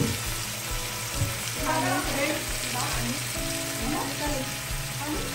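Shrimp frying in oil, butter and garlic sizzle steadily in a pan, with stirring clinks and scrapes and muffled voices faintly in the background.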